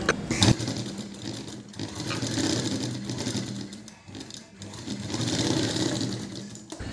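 Close, steady whirring comes from a sewing machine stitching the front of a blouse. Its fast, even chatter pauses briefly a few times and then resumes, running strongly for most of the seven seconds with no talk over it.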